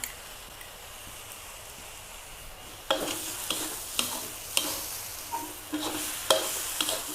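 Rice stir-fried over low heat with Chinese sausage, soy sauce and sugar starts with a soft, quiet sizzle, then a spatula scrapes and tosses the pan in repeated uneven strokes over the frying.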